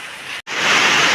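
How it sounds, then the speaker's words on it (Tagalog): Heavy rain from a super typhoon pours down as a dense, steady roar of noise, broken by a brief drop-out before the downpour swells louder again. "malakas po ang ulan dito sa amin."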